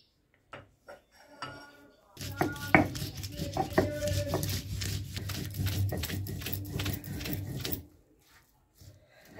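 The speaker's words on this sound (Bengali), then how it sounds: "আগে রসুনটা আমি বেটে নিই।" Garlic is ground on a stone grinding slab, or shil: a run of scraping, knocking strokes close by, preceded and followed by quieter clicks and handling noises, with bursts of irregular grinding in the middle.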